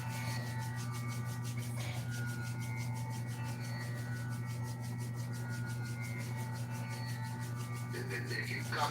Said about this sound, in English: Rub your hands briskly.